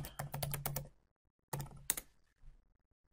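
Rapid keystrokes on a computer keyboard while entering a command in a PowerShell prompt, a quick burst of clicks, a pause, then a second shorter burst with a few trailing taps, close and clear.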